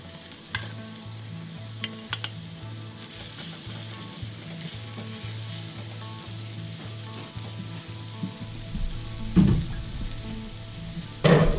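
Salisbury steak patties sizzle steadily in a frying pan, with a near, continuous fry broken by louder spatters and stirring clatter toward the end; no voices.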